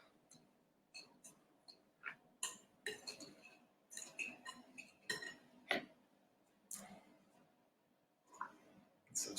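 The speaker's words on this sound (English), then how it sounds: "So just mix that sugar in" A utensil stirs sugar into a vegan cake mixture in a bowl, giving irregular close clinks and scrapes against the bowl, with quiet gaps between strokes.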